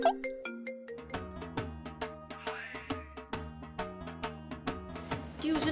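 A mobile phone ringtone plays a melodic, repeating electronic tune of chiming notes at moderate volume, with little else around it.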